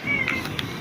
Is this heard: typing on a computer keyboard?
no